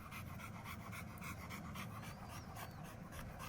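Dogs pant steadily and rapidly up close through the whole stretch, a continuous breathy rhythm with faint high tones above it and no talking.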